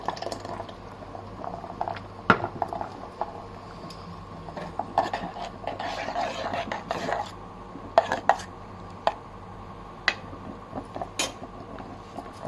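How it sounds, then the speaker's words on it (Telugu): A utensil stirs aloe vera into melted soap base, giving intermittent scraping, clinks and sharp taps against the container in a loose, uneven rhythm, close and moderately loud. "ఇప్పుడు మనము అలోవెరా ఇలా మిక్స్ చేద్దాం"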